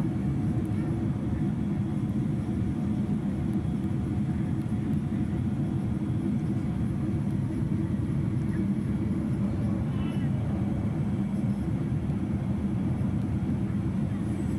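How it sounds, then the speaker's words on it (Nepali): An airliner landing at King Khalid International Airport in Riyadh produces a steady, loud low cabin roar that holds unchanged throughout, dense and droning with no distinct events. "जहाज चाहिँ ल्यान्डिङ हुने क्रममा छ"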